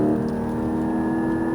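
A Porsche Cayman GT4 accelerates on a race track, its engine giving a loud, steady, rising drone heard close up with no pauses.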